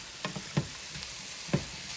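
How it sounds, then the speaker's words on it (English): Mushrooms with sliced leek sautéing gently in a pan for a veal blanquette, a soft steady sizzle broken by a few brief stirring scrapes, close and quiet with no talking. "I will then start sauteing my mushrooms"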